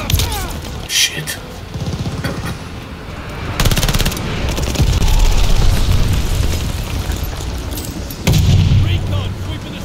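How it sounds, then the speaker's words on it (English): Glide bomb strike in Call of Duty multiplayer, heavy booming blasts and bursts of gunfire rolling through the middle of the clip, with someone talking over the game sound. "Friendly sending a glide bomb."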